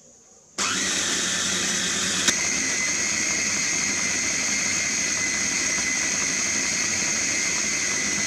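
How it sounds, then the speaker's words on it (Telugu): A mixer grinder runs continuously as it grinds soaked dosa batter, a loud, steady whirring drone that kicks in abruptly after a short pause and holds evenly to the end, with one small click partway through. "వాటిని మిక్సీ జార్లో కానీ గ్రైండర్లో కానీ బాగా స్మూత్ కన్సిస్టెన్సీ వచ్చేలాగా"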